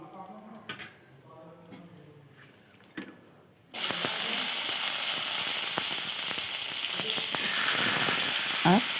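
Drumstick (sajna) pieces dropped into a hot pan with cumin and chilli for Bengali shukto, bursting into a loud, steady sizzle that fills the rest of the clip after a quieter start with faint clinks.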